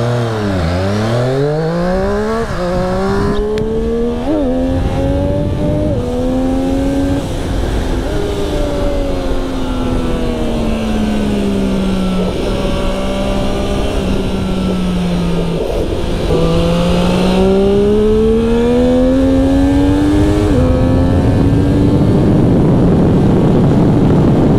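A 2020 Triumph Street Triple RS middleweight naked motorcycle ridden hard on a race track, its engine note loud and close, rising and falling through repeated revs, upshifts and downshifts with a steady whine.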